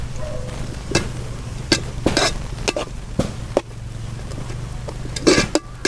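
Onions frying in a pan with a little salt, a low steady sizzle broken by repeated sharp scrapes and clacks of a spoon stirring, close and fairly loud.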